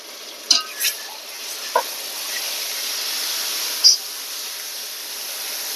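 Garlic hits a pan of already fried onion for a home-style bottle gourd and shrimp curry, giving a steady close sizzle punctuated by a few sharp stirring clicks.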